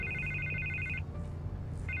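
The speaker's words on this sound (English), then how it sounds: "I can't get the phone to stop ringing." A telephone rings in Batman: The Telltale Series, two bursts of a bright electronic trill separated by a short pause, loud and close over a low background hum.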